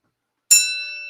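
A single bright notification bell ding strikes sharply and rings out with a clean metallic tone that slowly fades, heard alone.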